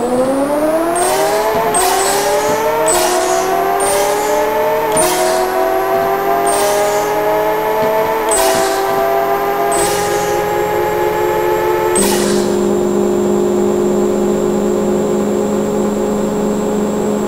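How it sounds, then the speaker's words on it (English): Dodge Challenger and Dodge Charger engines rev in a Pixel Car Racer drag race, a loud steady engine whine climbing in pitch through repeated gear shifts, each marked by a short break, before settling into a high sustained drone. "today we will race Dodge Challenger versus Dodge Charger"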